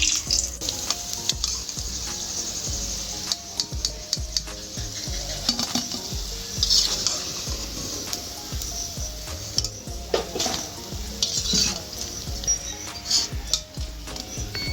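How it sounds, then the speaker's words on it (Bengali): Ripe mango fritters deep-fry in hot oil with a steady, close sizzle, broken by frequent clinks and scrapes of a utensil against the pan. "বড়াগুলো তেলের মধ্যে দেওয়ার পর বড়াগুলো বেশ বড় বড় হয়ে ফুলে গেছে পাশে পাশ একটু লাল লাল করে ভেজে নেবো"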